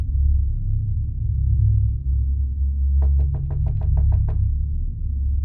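A run of about eight quick knocks on a door in a scary story, sharp and evenly spaced, sitting over a steady low droning ambience that fills the whole stretch.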